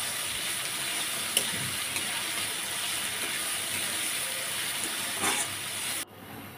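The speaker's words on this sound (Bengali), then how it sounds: "পেঁয়াজটা এখানে ভাজতে থাক, লো মিডিয়ামে রেখে আমি পেঁয়াজটাকে ভেজে নিব।" Onions frying in a pan on low-medium heat, a steady soft hiss and gentle sizzle with faint crackles throughout, fairly quiet and without talk, cutting off abruptly near the end.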